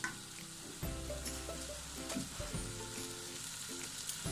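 Mixed vegetables for a restaurant-style vegetable masala frying in oil in a pan, giving a steady close sizzle with occasional stirring scrapes and no voices.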